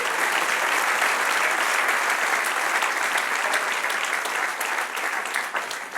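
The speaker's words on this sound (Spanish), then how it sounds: "Denle un aplauso al que reina." A church congregation applauds, a sustained, even wash of many hands clapping together at steady volume for several seconds, with no voice over it.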